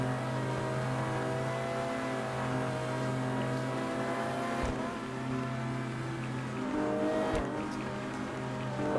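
A car engine howls at sustained high revs during a GTA 5 race, a steady droning whine with a couple of brief thumps and a slight pitch rise near the end, loud and alone.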